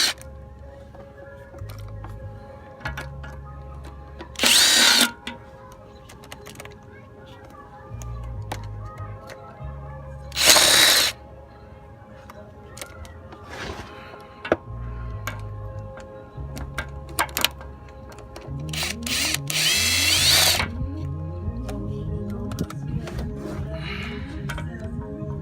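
An impact wrench removes bolts from a leaking unit on a vehicle, giving several loud, short bursts of rattling hammering a few seconds apart, separated by quieter clicks and shop noise.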